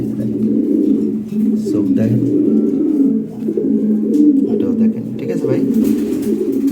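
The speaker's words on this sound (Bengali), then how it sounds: "এই যে এখানে এক পেয়ার কবুতর আছে" Pigeons coo steadily from a loft of fancy dark-checker birds, a Lahore breed, with low, rounded calls running throughout while someone talks over them.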